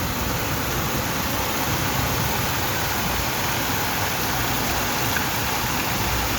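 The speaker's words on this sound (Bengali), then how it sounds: "অঝোর ধারায় কিন্তু বৃষ্টি হচ্ছে একদম যাকে বলে মাসুল ধারায় মাসুল ধারায় বৃষ্টি হচ্ছে" Heavy rain pours down steadily during a downpour in Saudi Arabia. It makes a dense, unbroken hiss that stays constant and fills the whole scene.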